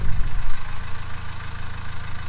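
A Subaru Outback with a swapped-in boxer diesel engine runs at a steady idle with a low, even rumble and a faint knock, close by and with no talk over it.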